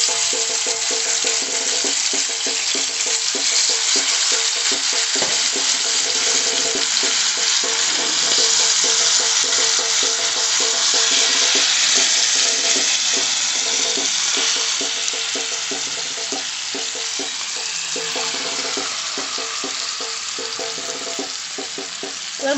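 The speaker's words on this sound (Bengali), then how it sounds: "এবার আমি এতে" Pomfret fish frying in spiced oil in a pan, a loud continuous sizzle and crackle that holds strong and close for the whole stretch, easing slightly toward the end.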